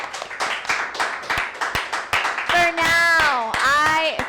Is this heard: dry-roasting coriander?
no